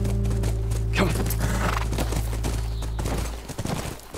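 A horse whinnies loudly in The Last of Us video game near a ranch, followed by hoof clops and scattered rustling movement over a low ambient game drone.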